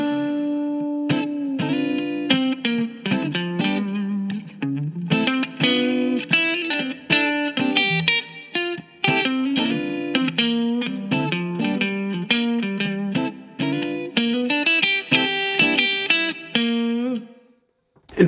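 A Mixolydian scale is played against minor pentatonic and blues-scale phrases, with a distorted, effects-laden tone. It is a steady run of melodic notes for about seventeen seconds with no talking.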